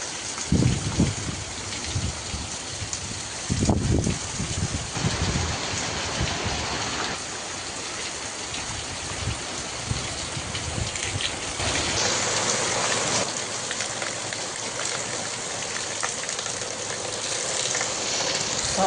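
The first monsoon rain of the season falls in Konkan in the evening, a steady broadband patter and hiss with a few louder thumps early on, no speech.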